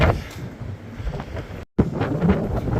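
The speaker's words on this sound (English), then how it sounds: "It's a little windy out here." Wind buffets the microphone in a rough, low rumbling rush while up on a boom lift outdoors, with a brief dropout midway before the gusting resumes.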